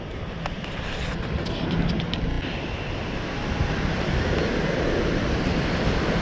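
Rough ocean waves break and wash against a steep beach, a continuous loud roar of surf and churning water mixed with wind buffeting the microphone, with no talking.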